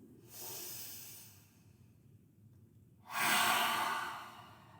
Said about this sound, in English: breathe in through the nose